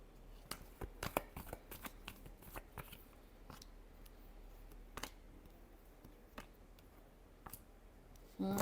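Tarot cards being shuffled by hand give quick bursts of soft papery riffling and light clicks, close and fairly quiet, with pauses between bursts and no talk.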